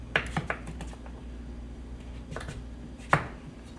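A knife taps steadily on a cutting board, dicing vegetables for a soup stock into small cubes, with a few crisp, close chops spaced out against a quiet kitchen background.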